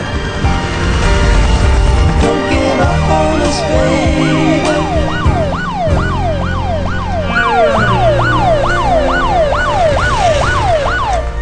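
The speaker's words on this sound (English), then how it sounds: "Follow the ambulance." A loud ambulance siren wails in rapid repeated rising-and-falling sweeps, close by, over engine rumble and traffic noise.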